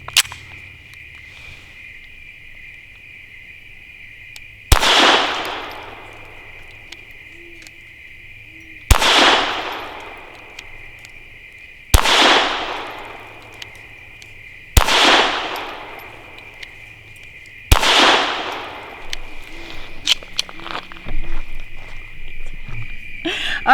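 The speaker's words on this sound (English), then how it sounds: "Now for 5 shots from 7 yards using Aguila's Super Extra High Velocity 40 grain." A Walther PPQ M2 .22 LR pistol with a 5-inch barrel fires five sharp shots of Aguila Super Extra high-velocity 40-grain ammunition at an outdoor range. The shots come a few seconds apart, each ringing briefly over a steady background tone.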